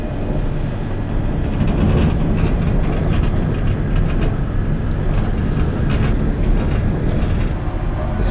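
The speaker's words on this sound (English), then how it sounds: "this is the passage of the train." A passenger train, the Indian Pacific, rolls loudly along the rails, a steady close rumble with rattling and clatter throughout, heard from on board.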